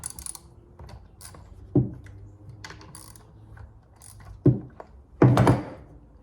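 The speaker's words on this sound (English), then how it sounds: "the first thing I'm gonna do is take the clutch cover off" A socket wrench works on the clutch cover nuts of a Poulan 3000 chainsaw, giving scattered light metallic clicks and a few louder clunks, closing with a rattling burst as parts come loose.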